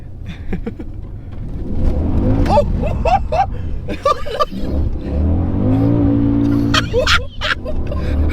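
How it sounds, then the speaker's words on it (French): A BMW M5 E39's V8 engine revs and roars up and down with tire squeals while drifting, loud and close, with people's voices briefly heard over it. "Mais tu sens vraiment c'est un bruit de moteur."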